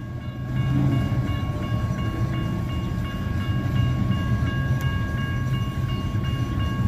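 A BNSF freight train rumbles steadily past close by, a continuous low roar with metallic rattling and a faint ringing tone, no voices.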